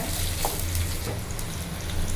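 A steady sizzle of okra sautéing in a hot pan, a constant crackling hiss with faint stirring, no voices.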